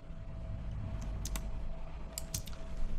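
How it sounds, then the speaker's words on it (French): Computer keyboard keys tapped in the Adobe Illustrator editor, arrow keys pressed together with Shift: a few sharp, light clicks in small clusters over a steady low background hum, with no talk. "avec les flèches au clavier et la touche Shift pour aller plus vite éventuellement"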